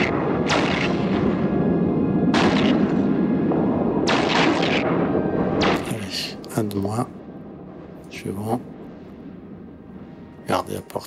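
Upgraded spaceship cannons fire in the space game Eve Online, a run of heavy booming shots with rumbling tails, loud at first, then spaced out as someone speaks between them.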